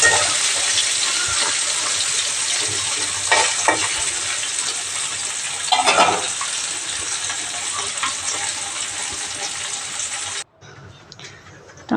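Fish sizzles and spatters loudly in hot oil in a wok, a dense, continuous frying hiss with a few louder bursts, cutting to near quiet at the very end.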